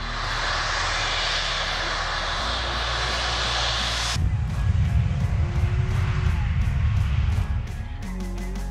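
A Bombardier business jet's engines roar steadily and loudly, shifting partway through into a heavier, rumbling surge before settling back into a smoother whine.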